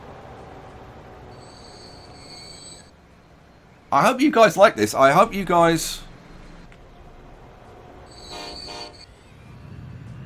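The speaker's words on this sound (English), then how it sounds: "the CM trains are whizzing past us" Trains speed past in the Transport Fever rail simulation game with a low rolling rumble and thin wheel squeal. Someone briefly speaks over the passing traffic midway, and the rail sounds continue softly on either side.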